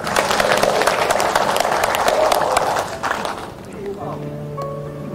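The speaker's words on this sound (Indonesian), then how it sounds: "Tepuk tangan dong." Audience applause at a university inauguration ceremony, a dense burst of clapping that carries for about three seconds and then fades out, with a voice speaking afterward.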